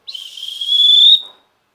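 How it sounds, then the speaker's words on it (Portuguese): A single loud, sharp whistle blast rises and holds for about a second, then cuts off abruptly. "Atenção, é para chamar a atenção, o apito aqui."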